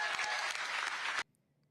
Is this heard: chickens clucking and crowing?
no